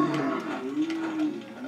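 A cow in Goat Simulator MMOre Goatz Edition gives a loud, sustained low moo lasting under two seconds, close and alone.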